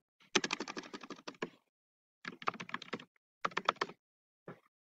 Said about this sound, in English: So I'm going to input the same